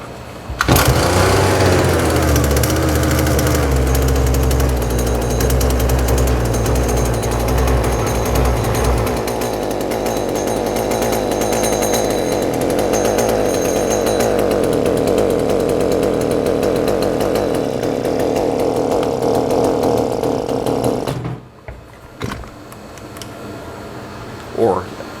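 A trash-picked Husqvarna 223L string trimmer engine runs loud and close, a raspy two-stroke buzz that wavers and shifts pitch as it struggles to idle, then drops away abruptly near the end.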